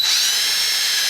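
A hand-held power drill fitted with a 3/16 bit bores steadily through a part, its whine loud and close and holding one high pitch without pause.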